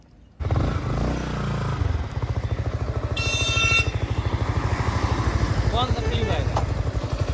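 Yamaha R15 V4 motorcycle engine running at low RPM during a quick shifter gear change, a close pulsing exhaust burble that shifts pitch and steadies into a rhythmic thrum, with someone talking over it.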